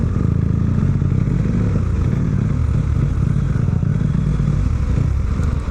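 A motorcycle rides through city traffic with a steady, loud engine drone, plus road rumble and wind noise, heard from close by on the bike without a break.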